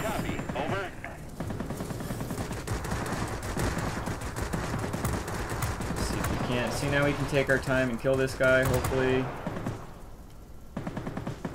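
Rapid bursts of 20mm cannon fire from a World of Warplanes fighter, choppy repeated volleys under engine drone, with someone talking over much of it.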